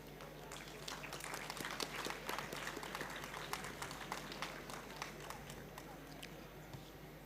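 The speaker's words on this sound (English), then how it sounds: "let's give a huge round of applause to the Informatics Institute of Technology" Dense applause from a large crowd, steady clapping throughout with a faint hum underneath.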